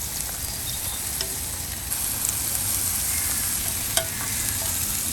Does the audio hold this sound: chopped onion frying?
yes